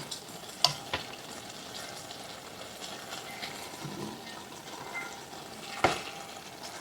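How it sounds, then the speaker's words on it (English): Melted beeswax drips through a nut milk bag while being rendered, a few sharp, wet drips landing sporadically over a soft, continuous crackling sizzle, fairly close and quiet. "that's the wax dripping down"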